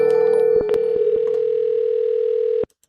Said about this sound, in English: Whoa, that was the longest ring I ever heard.